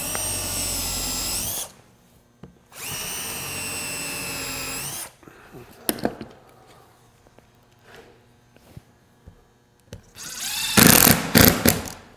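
Cordless power drill driving screws to attach an auxiliary wooden fence onto a woodworking sled, with two long whirring runs, a pause filled with handling knocks, then a final loud burst, close by without speech.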